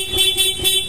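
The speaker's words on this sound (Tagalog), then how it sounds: "Tapos ito yung pinaka stock horn ni sir." A stock vehicle horn honks in three quick pulsing blasts, loud and close, with no talk.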